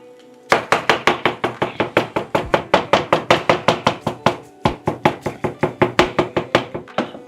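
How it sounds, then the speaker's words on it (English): Boiled potatoes pounded fufu-style into mash, a long steady run of heavy, evenly spaced thuds close by, about four to five blows a second with one brief pause, no talk. "So I must summon the skills of the fufu making powers in me to make our mashed potatoes."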